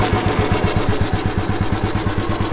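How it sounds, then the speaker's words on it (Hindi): A 1999 Royal Enfield Bullet motorcycle engine idling up close, a loud, steady, even thumping beat with regular pulses throughout and no talk. "अब सुन लो आवाज भाई इंजन की, कितना साइलेंट इंजन है भाई"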